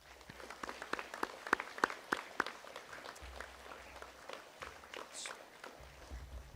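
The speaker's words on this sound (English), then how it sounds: "Let's give them a round of applause." Applause from a school audience at a junior school celebration of learning, scattered clapping at moderate distance, fairly faint and uneven, with sharp individual claps rising and thinning over several seconds.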